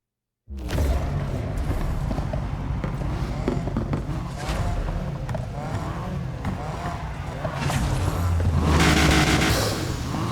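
Engine of a Dodge Charger SRT8 in Need for Speed Heat starts abruptly and keeps up a loud, continuous roar with revving that swells near the end.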